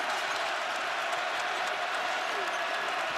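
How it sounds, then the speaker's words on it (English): A college basketball arena crowd at an Arizona vs UConn game roars steadily, with cheering and applause filling the whole stretch as a dense wash of noise and a commentator's voice faintly underneath. "and here comes the crowd."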